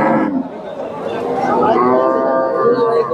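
Cattle, including dairy cows up for sale, at the Kalampur livestock market in Dhamrai, Bangladesh: a loud, drawn-out moo carries through most of the stretch over a busy market background.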